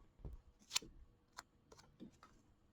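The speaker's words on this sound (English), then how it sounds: "Get my little pieces cut out here." Scissors cutting small fabric pieces for a Kimberbell mini quilt, a few soft, faint snips and light handling taps spaced apart in a quiet room.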